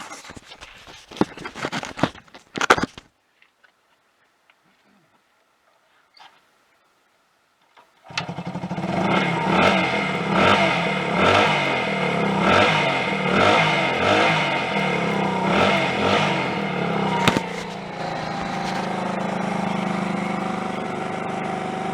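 A Honda CD175 motorcycle engine catches after some handling noises and a pause, then runs close and loud with a rough, pulsing idle and a few rev swells before settling.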